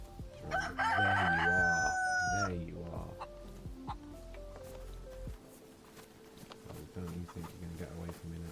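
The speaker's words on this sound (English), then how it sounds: "I'm pretty sure there is a chicken around here in this local area." A chicken in the video game DayZ lets out a loud crowing cock-a-doodle-doo near the start, followed by quieter clucks and faint game ambience.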